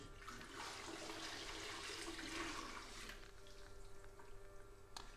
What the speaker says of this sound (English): Just dump the hot water into this hopper.